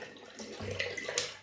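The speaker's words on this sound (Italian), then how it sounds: "strizzo bene il pennello" Water being squeezed from a wet shaving brush, a short close-up trickle and splash lasting about a second.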